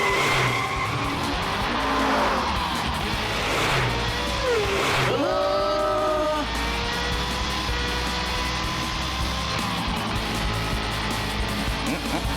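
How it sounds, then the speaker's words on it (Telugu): A cartoon car in a supercar race reverses and skids, with loud tire squeals and a swooping, bending engine whine over a continuous roaring engine and crowd-like noise. "రివర్స్ గేర్ వెయ్యి, వెయ్యి."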